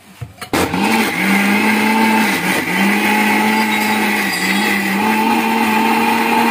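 A mixer grinder motor whirs loudly and steadily after a brief clatter, its hum rising and dipping slightly as the blades churn through a thick paste with half a glass of water.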